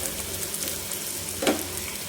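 Green chillies and curry leaves fry in a pan for restaurant-style chicken majestic, giving a soft, steady sizzle with one brief louder crackle partway through.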